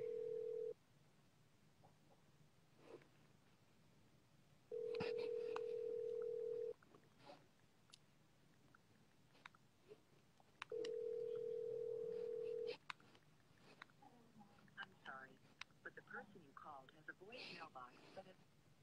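A telephone call rings out with long steady ringback tones in repeated bursts separated by pauses, loud and alone, before the line drops to quieter background sounds.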